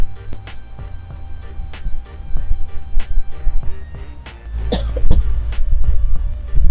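A series of sharp, close coughs, several separate bursts spaced irregularly with a louder cluster near the end, with no talking.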